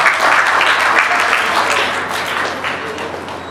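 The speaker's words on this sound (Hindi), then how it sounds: "श्री अभय जी शदानी पर जोरदार तालियां" Audience at a children's camp gathering at a Shadani Darbar in Raipur applauding loudly, a dense sustained wash of clapping that slowly tapers toward the end.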